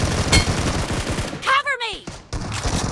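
Gunfire in the BGMI battle royale game, a few sharp close shots with a whooshing sweep in the middle, set against game effects and background chatter.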